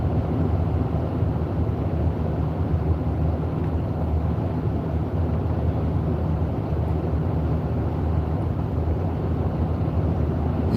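Steady wind buffets and rumbles during a road trip, a constant low roar with no breaks, loud and unbroken throughout.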